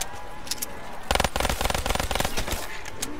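Rapid automatic fire from an RK5 pistol in a first-person shooter video game: a short sharp shot near the start, then a dense, loud burst of fast repeated shots lasting about a second and a half, trailing into scattered crackles.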